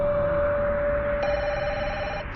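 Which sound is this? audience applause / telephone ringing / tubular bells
telephone ringing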